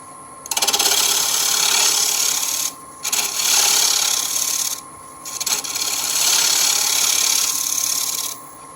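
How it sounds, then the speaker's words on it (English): A turning tool shearing across the rim of a dry wood bowl spinning on a lathe, giving a steady, close, broadband scraping rasp in three long passes separated by brief pauses. "I just want to flatten it, make sure we get a good flat rim on there"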